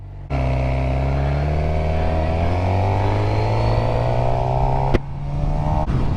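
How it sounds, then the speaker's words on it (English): A Suzuki GSXR 600 sport bike rides on the road with a loud, close engine drone whose pitch climbs steadily as it accelerates, briefly dipping at a shift before pulling again. "This is a GSXR 600. This is my first bike."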